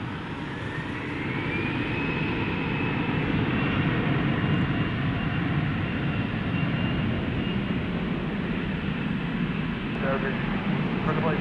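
At DFW airport, Flight 727's jet engines roar steadily and fairly close, holding a broad continuous rush with a thin whine rising early on and faint radio chatter underneath.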